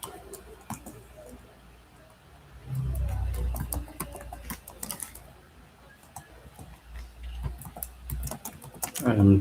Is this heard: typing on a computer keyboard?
yes